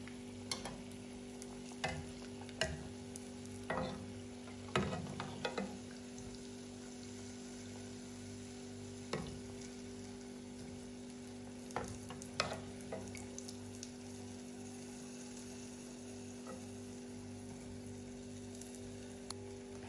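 Macaroon sweet dough pieces fry in oil with a soft, low bubbling hiss, punctuated by scattered clicks and knocks from utensils at irregular intervals.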